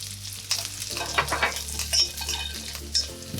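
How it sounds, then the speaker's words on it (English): Thyme and garlic sautéing in a pan for a sausage and mushroom pasta: a close, steady sizzle with scattered spoon-on-pan scrapes and clinks, over a faint low background hum and no voices. "Just wanna give that a quick saute just like your garlic until you can smell it a little bit."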